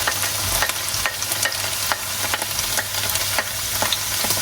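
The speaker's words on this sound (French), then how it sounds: "je vais ajouter mon ail et mon oignon" Garlic, onion and potatoes sauté in butter in a pan, giving a steady close sizzle broken by regular scrapes and clinks of stirring.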